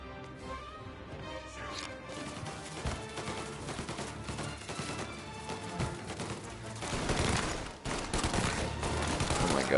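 A Tommy gun fires in Mafia as a dense spread of gunshots and bursts over clashing game noise, louder toward the end, with no talking.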